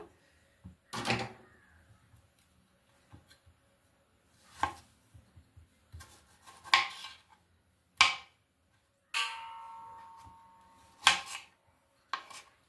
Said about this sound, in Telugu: ఏవైతే టమాటీలు తీసుకున్నామో మనం అవైతే కట్ చేసేసుకోవాలి.